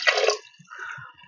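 Water is poured into a multicooker pot holding chicken seasoned with salt and black pepper: a short, close splashing pour, then a softer trickle and a few faint drips.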